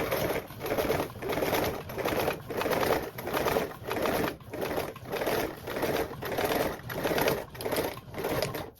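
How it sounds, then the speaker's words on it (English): Sewing machine top stitching a duffle bag seam at an eighth-inch allowance, running in steady rhythmic bursts with short pauses between them, close and clear with no talking. "I'm gonna top stitch using a 1/8 seam allowance."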